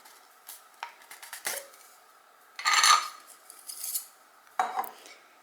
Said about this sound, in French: on va fouetter énergiquement en forme de M pendant quelques secondes